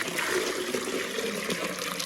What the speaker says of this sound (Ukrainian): Ось так ми наливаємо акуратно, придержуємо, щоб не впало.